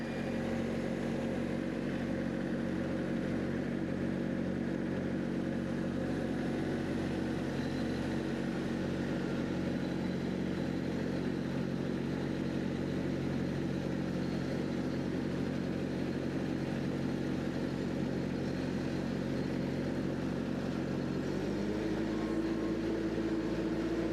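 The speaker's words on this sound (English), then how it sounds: "So is he going to let us take this thing for a drive or not?" Case TL100 mini skid steer engine idling steadily and loud throughout, a low continuous rumble with a slight pulsing early on and a brief shift in tone near the end, no voices.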